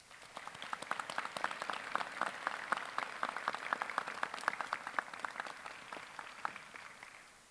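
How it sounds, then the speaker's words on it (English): Attendees at a Greensboro police academy graduation ceremony give a round of applause, many distinct hand claps merging into a steady, fairly quiet and distant ovation that fades slightly toward the close. "Please join me in giving these individuals a well-deserved round of applause"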